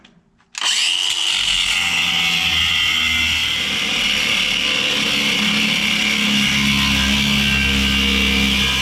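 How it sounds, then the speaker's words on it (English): A power tool starts abruptly and cuts off old brake pads from a 1964 Ford F100, grinding loudly and steadily up close for several seconds, with no one talking. "I don't know why I just didn't cut them off to start with"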